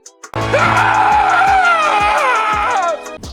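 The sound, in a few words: man screaming in TV show scene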